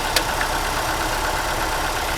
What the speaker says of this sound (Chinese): 那么看着这颗引擎怠速非常稳定